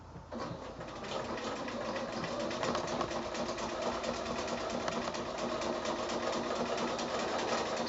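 A sewing machine doing free motion applique quilting runs steadily and fairly loud throughout, its fast mechanical stitching hum holding an even pace with no talking.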